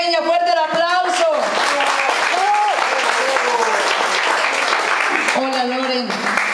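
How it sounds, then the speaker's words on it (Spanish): Applause from a crowd in a cantina bar welcoming a singer on stage, clapping under an announcer's voice and singing-like talk that stays loud throughout. "fuerte el aplauso"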